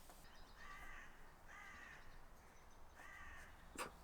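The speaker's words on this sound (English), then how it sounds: "Listen to that angry crow." An angry, talkative crow caws outdoors in three harsh, evenly spaced calls, heard faint and at a distance over a quiet background hiss, with a brief sharp click near the end.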